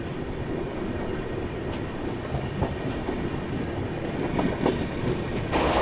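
Train rolling steadily onward after leaving Palwal, a continuous loud rumble and rattle of the moving carriages with no talk over it.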